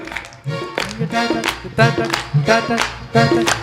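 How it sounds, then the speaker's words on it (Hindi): An audience claps along in rhythm to a devotional bhajan sung live, with regular claps keeping the beat under loud singing voices and music. "ताली बजाओ।"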